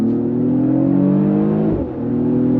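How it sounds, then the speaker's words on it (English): A 2023 Mercedes-AMG GLE 53 SUV pulling hard under throttle, its engine drone loud and close and rising steadily, with a brief dip in pitch near the end like a quick gear shift. "On throttle, here we go."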